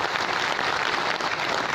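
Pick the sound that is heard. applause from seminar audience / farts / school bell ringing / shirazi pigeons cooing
applause from seminar audience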